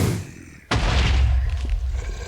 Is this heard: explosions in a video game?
yes